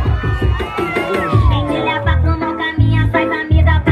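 Carnival crowd at a Bloco das Virgens parade in Conceição, Paraíba, shouting and cheering loudly for a parader, with close, strong voices, whoops and babble, plus music pulsing underneath.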